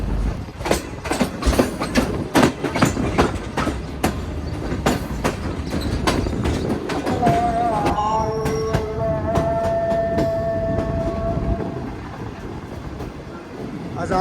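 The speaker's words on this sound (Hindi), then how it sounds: "रायवन जंक्शन से ट्रेन हमारी निकल रही है" The Pak Business Express pulls out of Raiwind Junction with rhythmic clattering wheel beats over the rails, then a smoother rolling rumble with tonal squeals and hums as it gathers speed; a voice speaks at times.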